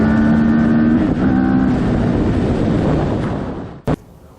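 A CFMOTO 700 CL-X Heritage motorcycle engine pulls while riding, a loud droning tone that shifts pitch around the first second, then fades and stops with a sharp knock near the end.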